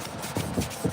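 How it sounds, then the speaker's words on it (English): A 1968 Chevrolet C10 hood panel is water sanded in a shop, giving a brief close rasping rub with a few quick strokes that swell and fade in under a second. "Be sanding on some panels."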